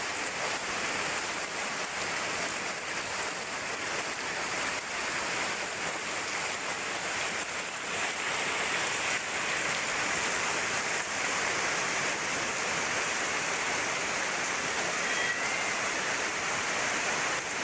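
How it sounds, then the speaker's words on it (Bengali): Heavy rain pours steadily outside, a dense, constant hiss of water drumming on surfaces that holds an even loudness for the whole stretch, with no voices over it. "বাইরে বৃষ্টি হচ্ছে"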